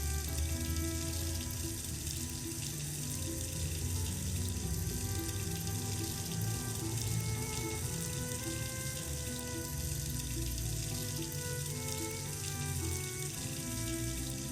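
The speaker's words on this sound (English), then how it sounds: "The sound of running water is something else" Water runs steadily and continuously in the video game Penelope Pendrick and the Art of Deceit, a constant, even rush that fills the whole stretch with no talking.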